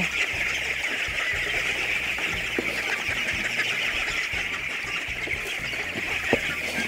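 Purebred itik ducks crowd toward their keeper at feeding time, making steady quacking and clucking chatter close by, with occasional wing flaps and a constant hiss from the surroundings.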